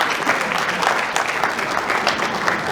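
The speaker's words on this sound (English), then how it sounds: "A big round of applause for all our guests." Guests at a corporate insurance company celebration receive a loud, dense burst of applause from the audience, sustained and even throughout with a light crowd murmur mixed in.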